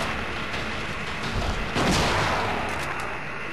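Gunfire from the video game Silent Hill 2, a burst of booming shots over a continuous noisy background, one loud heavy blast standing out midway before fading into a rumbling tail.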